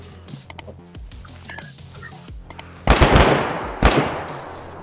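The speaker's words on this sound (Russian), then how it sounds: "По мне стреляет." Gunfire in the survival game DayZ: a few sharp, spaced cracks ring out, followed by two much louder booming shots with rolling echoes, close and with no talk over them.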